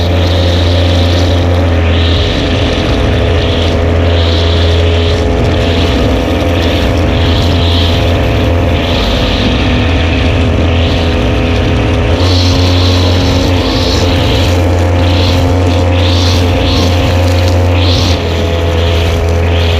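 A brush cutter engine runs loud and continuous in a backyard garden among plants, a steady close droning whine with slight fluctuations throughout and no talk.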